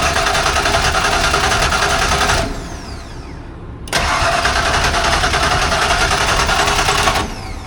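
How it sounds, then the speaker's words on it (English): A pump running loudly on a vehicle, probably an electric fuel pump, heard as a steady mechanical whir that cuts out briefly and then restarts, no talking. "Pump's running. Yeah, I can hear it."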